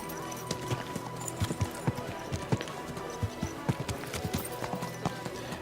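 Horse hooves clip-clopping in the medieval video game Kingdom Come Deliverance 2, a steady run of close hoofbeats on hard ground with faint background game ambience.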